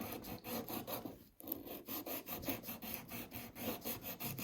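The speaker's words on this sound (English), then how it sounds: "Let's just get a nail file." A nail file rasps against a Garmin GPS mount in steady back-and-forth strokes, close and fairly loud, with a brief pause before the rhythmic filing resumes.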